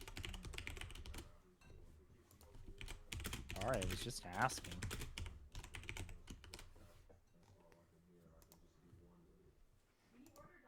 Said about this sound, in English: I'm typing in the options